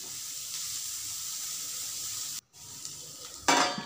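Coarsely ground pea paste roasts in a pan, giving a faint steady sizzle with a short gap, then a louder burst of frying hiss near the end.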